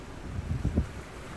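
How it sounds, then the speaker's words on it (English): Strong wind gusts over a small city lake, a low rushing buffet against the microphone with a couple of heavier surges in the middle, no voices. "noticed that the wind had really picked up"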